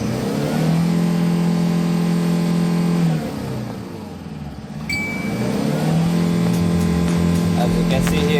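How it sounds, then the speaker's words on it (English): A 2007 Kia Bongo III diesel manual truck engine revs up in a steady loud hum, settles back to idle around the middle, then climbs again, with a person's voice talking over it. "Let's try to accelerate. Let's see the RPMs movement."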